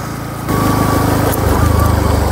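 A motorbike engine rides on a wet, muddy road in winter rain, its buzzing, pulsing drone close and loud, rising in intensity after a brief quieter start.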